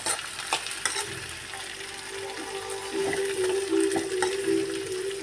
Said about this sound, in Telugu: చిన్న కాసరకాయల ఫ్రై.